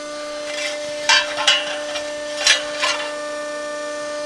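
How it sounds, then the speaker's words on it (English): The brake arm of a Scotchman DO-100-24 100-ton dual-operation ironworker raises under a steady machine hum. A few soft scraping and knocking clunks sound over the drone. "You can see the arm raising here and allowing for a piece to go into the brake."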